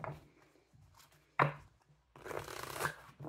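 A deck of tarot cards being shuffled, quiet riffling and soft slaps in short bursts with a sharp snap in the middle and a longer rustling shuffle at the end.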